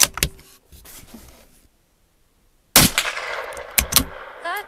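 Shots from a Tikka T1X .22lr rifle firing Remington Yellow Jacket ammunition, several sharp close cracks spaced irregularly, with a quiet gap in the middle before more reports and shuffling handling noise.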